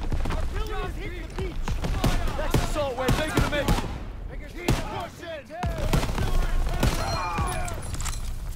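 Gunfire in the World War II shooter game Call of Duty WWII: rapid, loud volleys of shots crack throughout, and a person talks over them.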